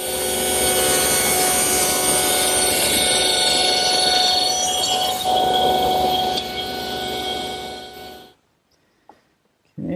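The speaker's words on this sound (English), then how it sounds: "that's the first of 2 cuts for a wide rabbet" A power tool cuts a wide rabbet in wood for a jewelry box in a workshop, a loud steady whine and rasp for about eight seconds, then it cuts off into near silence.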